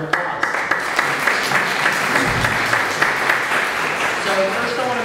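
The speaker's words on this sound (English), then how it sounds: "round of applause." An audience applauds guest speakers at an arts and higher education event, with dense, steady clapping filling the hall for about five seconds.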